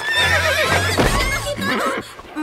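A horse in a Playmobil cartoon for children gives a loud, close, wavering neigh that rises and falls over a couple of seconds, with a low rumble beneath.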